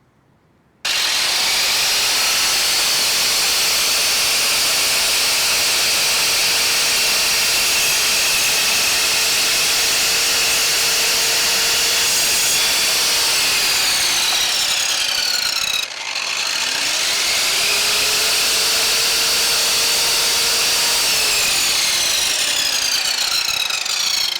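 A VONROC MS507AC mitre saw cutting wood runs loudly and steadily for about fifteen seconds, briefly dips, then spins back up and cuts again, with a high whine throughout.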